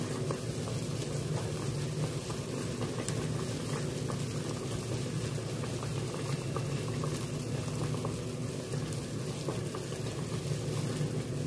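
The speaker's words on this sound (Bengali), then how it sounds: "গ্যাসটা হাইতে রাখবেন, যাতে জলটা সব ক্রমাগত ফুটতে থাকে" A pot of water boils hard over a high gas flame, a dense, steady bubbling roar that stays loud and close throughout, with no talking.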